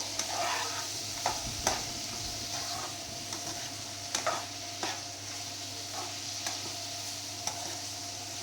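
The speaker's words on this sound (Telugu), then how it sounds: "ఇప్పుడు ఉప్పు మనం పసుపు వేసిన తర్వాత ఒక్కసారి అయితే ఇంకా బాగా కలిపేద్దాము" Salt and turmeric stirred into a frying masala in a pan, a continuous soft sizzle with repeated spoon scrapes and light knocks at an unhurried rhythm, no voices.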